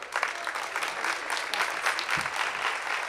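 An audience at a university celebration night with a choir applauds warmly, dense continuous clapping from a crowd filling the whole stretch at an even level.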